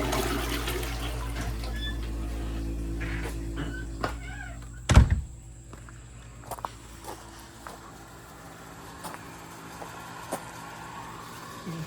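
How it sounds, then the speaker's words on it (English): Water flows back into the system at a family lodge while a John Deere lawn tractor is being revived, a steady low rushing under a sharp thump near the middle, with faint outdoor sounds around it. "There, we got clear water coming back in."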